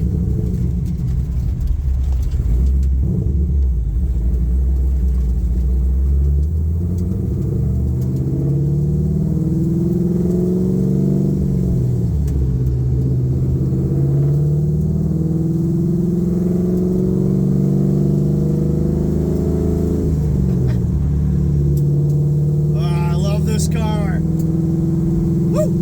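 A 1969 Pro Touring Camaro with an LS3 V8, running on new sticky tires, pulls out of a driveway. Its engine gives a close, steady rumbling drone that rises and falls in pitch as it drives.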